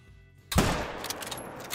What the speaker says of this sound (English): I'm just going to take him out with a rifle here.